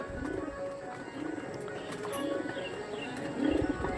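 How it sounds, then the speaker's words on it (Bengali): Pigeons give soft, repeated low coos close by, with faint rustling and background noise. "বন্ধদমের পায়রা"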